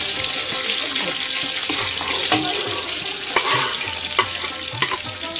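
Onions frying in hot ghee for bhuna khichuri give a steady, close sizzle, broken by scrapes and clinks as a spoon stirs the pan, with a faint running-water hiss in the background.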